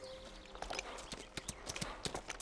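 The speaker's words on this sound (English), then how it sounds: "Miss Blaine, should I take the horses back?" Horse hooves clip-clop in a quick, uneven rhythm as horses are led along, close by and fairly clear over faint background noise.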